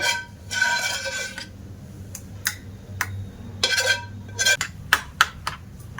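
Yogurt and mango are whisked in a bowl, giving bursts of scraping swishes and quick metallic clinks against the bowl, close and uneven in rhythm.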